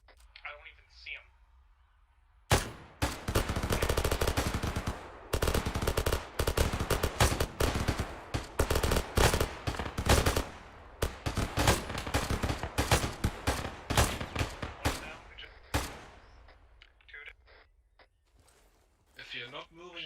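Rapid gunfire in a video game battle: dense volleys of sharp, close shots and automatic bursts crackle almost nonstop, then thin out into scattered shots before dying away.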